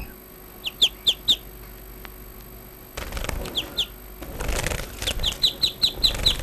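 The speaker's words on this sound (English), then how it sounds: "This bird is called finch." A finch flaps its wings in short repeated bursts, mixed with sharp high chirps in evenly spaced runs, close by, with some rustling handling noise in between.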